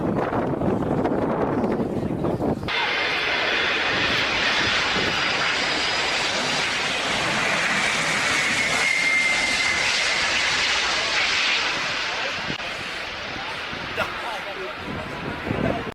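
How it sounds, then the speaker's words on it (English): Engines of an Antonov An-225 cargo jet roar during landing, a broad sustained rush with wind noise that starts abruptly after a short quieter stretch and slowly fades toward the end. "Let's see how this pilot handles the landing of the Antonov 225."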